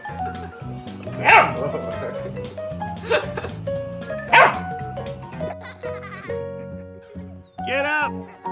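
A dachshund barks in several sharp yaps spaced a few seconds apart, close and loud, with a person talking and laughing around the barks.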